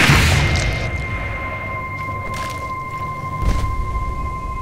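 A single loud gunshot opens the scene in The Walking Dead video game, followed by a lingering rumbling tail and a duller thud a few seconds later.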